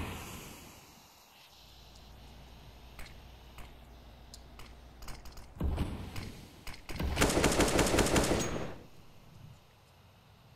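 AK rifle fire in a Counter-Strike pro league match rattles out in a loud, rapid burst near the end, after scattered clicks, footsteps and softer in-game sounds, with no talk.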